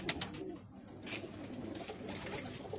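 Pigeons of a Pakistani high-flyer breed in a loft in Kuwait at night: soft, close, repeated throaty coos and rustling over a faint room hum, no voices.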